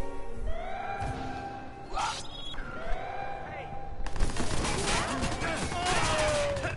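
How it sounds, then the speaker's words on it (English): Gunfire in the Watch Dogs video game on PS4, bursts of shots and crashing impacts mixed with game music and tones while a voice talks over the action. "Y'all are shooting civilians!"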